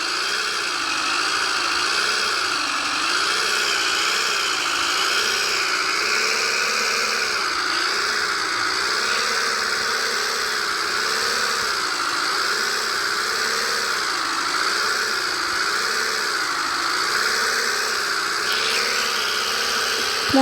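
A motor engine runs steadily in a garage-like setting, giving a continuous droning hum with a slow, regular wavering pulse throughout, close and fairly loud, with no talking.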